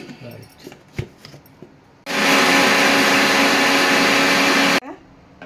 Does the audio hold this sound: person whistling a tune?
no